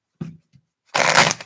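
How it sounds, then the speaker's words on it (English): Playing cards being shuffled by hand, a short riffle and a soft tap followed by a loud, close, dense burst of riffling, with no talking. "That's the card that popped out as I'm shuffling for DeSantis."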